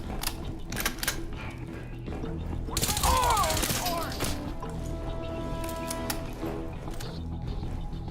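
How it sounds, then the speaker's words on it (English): Sustained rapid gunfire from Crysis 2 Remastered rattles through several seconds of a firefight, with a denser burst of crackling shots midway, mixed with game effects and occasional voices. "Incoming fire!"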